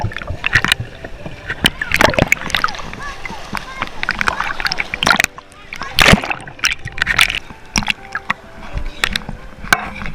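Water splashes and sloshes as a person swims in a hot tub, with irregular close splashes and paddling bursts over a busy background and voices talking throughout.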